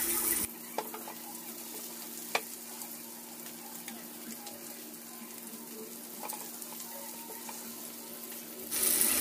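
Whole fish frying in a pan, a soft steady sizzle running underneath with faint crackles and one sharp tick near the middle, no voices.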